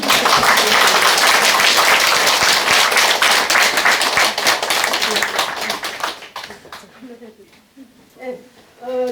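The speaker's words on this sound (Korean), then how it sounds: "큰 박수 한번 더 쳐주세요" Big round of audience applause for a departing teacher at a Bible lecture gathering, loud dense clapping for about six seconds that then fades out, leaving a few scattered claps and quiet speech.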